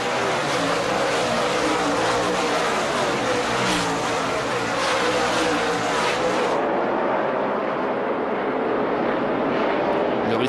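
NASCAR Sprint Cup cars roaring at a restart at Sonoma in 2009, a dense, sustained engine drone that stays loud and continuous throughout, with the top end dropping away partway through.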